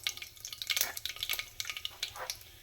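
Mustard seeds and urad dal frying in oil for rice upma, a faint, busy crackle and sizzle with small popping bursts and no voices.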